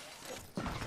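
An enemy shield breaking in Apex Legends, a short crisp shattering burst near the end of the moment, faint and quick over a low game backdrop.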